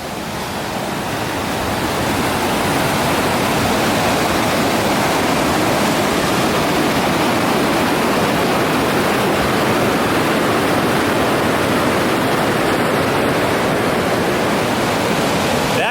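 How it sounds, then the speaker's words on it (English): A waterfall in the Niagara Falls area cascades in a loud, continuous roar that fades in at the start and holds steady throughout. "this is quite a waterfall to be seen"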